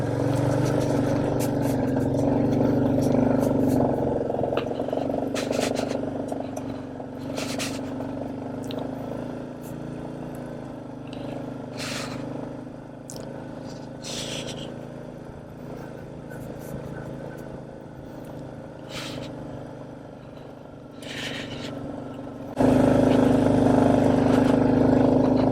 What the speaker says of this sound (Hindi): क्या दम लगा रही है भाई बाइक, जबरदस्त।